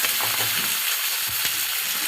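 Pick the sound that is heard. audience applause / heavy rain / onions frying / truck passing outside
onions frying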